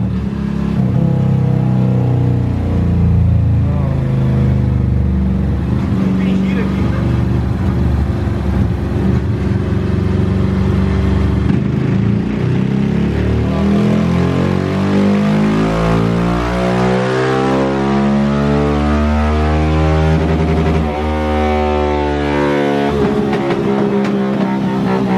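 A motorcycle fitted with an aftermarket exhaust accelerates hard through third gear, its loud engine rising steadily in pitch and roaring continuously for over twenty seconds, up close and alone.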